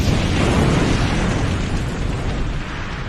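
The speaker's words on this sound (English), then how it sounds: "Miles is uncuffed so he can direct the explosion safely out of the building" A loud, sustained explosion from the TV show Agents of SHIELD, directed out of a building: a dense, roaring blast that fills the clip and tapers off slightly toward the end.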